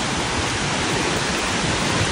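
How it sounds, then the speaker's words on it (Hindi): Steady broadband rushing of a waterfall among trees in a Lake District forest near Windermere, a dense continuous roar with no breaks. "अभी ये आप आवाज़ सुन रहे होंगे वाटरफॉल की, ये भी लाइक ट्रीज़ के बीच में है"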